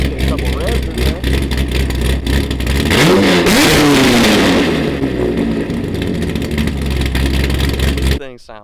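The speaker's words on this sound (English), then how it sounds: "Get a couple revs in there." A fully built Corvette V8 with straight-piped exhaust revs hard and loud with a raw, open roar, climbing sharply then settling back to a rumbling idle, close up.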